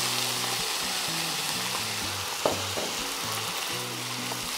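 Chiles poured in with their vinegar crackle and sizzle steadily in a hot frying pan. The hiss runs constantly, with occasional stirring scrapes and a brief spatter, and no one speaks.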